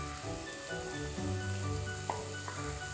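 Crushed ginger frying in a pan for a Kerala-style beef curry, a steady close sizzle that runs throughout with a few light clinks of stirring.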